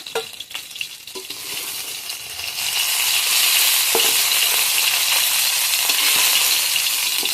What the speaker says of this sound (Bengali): বাদ বাকি মাছ যেগুলো আছে অল্প অল্প করে ভেজে নেবো